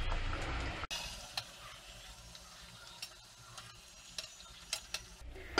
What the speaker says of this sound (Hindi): अब हम इसमें चिरोटे तलते हैं। इन्हें मीडियम आंच पर तलना है।